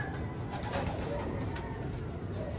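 A checkered racing pigeon arrives back at its loft after its first training flight and gives soft, low coos. The cooing is faint against a steady outdoor background hiss.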